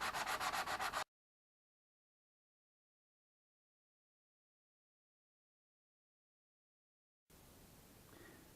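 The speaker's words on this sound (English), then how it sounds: "keep sanding away" Sandpaper rubs rhythmically against a Sand Scorcher RC car body in quick, even strokes for about a second, then the sound cuts out to long silence before a softer scraping texture returns at the end.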